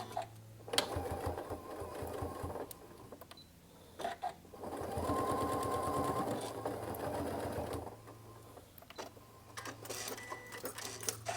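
A sewing machine stitches quilt fabric in several fast bursts of rapid, rattling needle strokes, pausing between runs, with quiet handling noises in the gaps.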